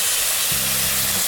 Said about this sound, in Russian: На большом огне обжариваем.